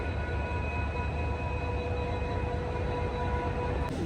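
A train arriving from Faridkot pulls in at platform one of Firozepur Cantt railway station, a loud, steady rumbling roar that fills the whole stretch without a break.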